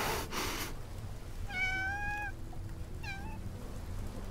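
A cat meows twice in a Love and Deepspace video game cutscene, a drawn-out tonal meow followed by a shorter one, clear and close against quiet background noise.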